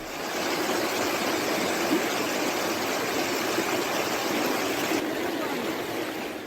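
Floodwater pours out of a lake breached by heavy rain in Veppur taluk, making a steady, loud, continuous roar of rushing water with no pauses.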